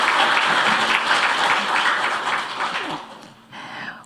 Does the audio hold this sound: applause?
yes